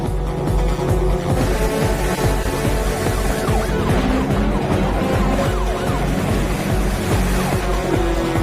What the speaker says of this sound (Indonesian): Polisi tersebut tampaknya ternyata menggunakan mobil Nissan GT-R A35 yang tentunya bukan mobil lambat.